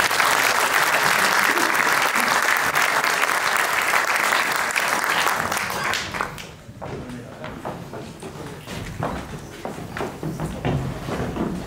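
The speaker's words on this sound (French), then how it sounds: "Applaudissez-les bien fort." Audience applause rises at a round-table opening session: loud sustained clapping for about six seconds, then it thins into scattered claps with murmuring and talk underneath.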